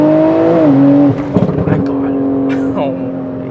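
A modified BMW M340i (G20) with a turbo swap, making around 800 wheel horsepower, pulls hard with a loud, steady engine drone that shifts pitch at a gear change, while a man exclaims over it.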